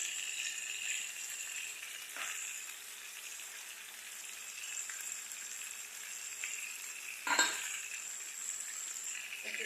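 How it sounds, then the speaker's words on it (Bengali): Mutton sautés in a pan with a chilli and turmeric paste, giving a quiet, steady sizzle broken by two brief scraping stirs, with no voices. "এখন এটাকে 4 থেকে 5 মিনিট ভালো করে কষাতে হবে"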